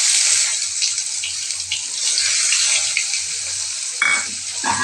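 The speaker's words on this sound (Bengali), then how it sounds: "এবারে তেলের মধ্যে দিয়ে দিচ্ছি গোটা জিরে আর শুকনো লঙ্কা, আর দিচ্ছি পেঁয়াজ।" Whole cumin, dried chilli and onion frying in hot oil give a constant bright sizzle and crackle that stays loud and close, with a brief stirring clatter near the end.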